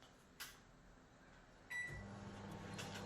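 A microwave oven runs with a steady low hum, with a sharp click near the start and a louder mechanical thunk as the fan and magnetron noise rise and hold, heard close by with no talking.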